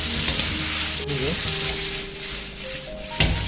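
Wood ear mushrooms tossed quickly in a hot wok give a loud, continuous sizzle, with spatula scrapes and metallic clanks breaking through near the start and the end.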